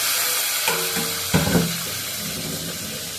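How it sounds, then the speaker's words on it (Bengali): Teasel gourd (kakrol) pieces tipped all at once into hot oil, giving a steady close sizzle with a sharper burst of frying as they land, over faint kitchen clatter. "ভাজিটা করে নিই, কাঁকড়ের ভাজি সবগুলো একসাথে ছেড়ে দিলাম"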